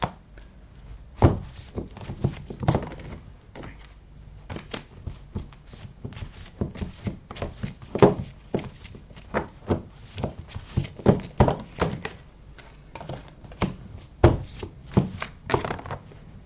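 Tarot cards are shuffled and drawn by hand in a quiet room, a close run of irregular soft slaps, flicks and taps, some louder than others, spread through the whole stretch.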